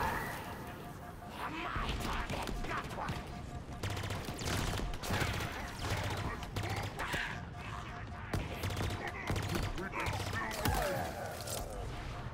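Gunfire in the shooter game Halo Infinite: rapid, repeated shots crackle through a busy battle mix at moderate loudness, with a rhythmic low pulse underneath.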